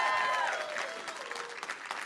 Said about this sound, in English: My wonderful family, Mike and Anna Michael, you both deserve a round of applause right now.